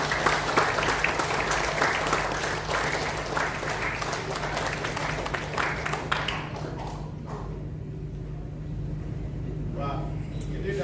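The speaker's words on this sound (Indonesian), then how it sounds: "Mari kita berikan tepuk." Steady applause fills a hall at the opening worship service of a church conference, with a constant hum beneath it. It fades gradually toward the end.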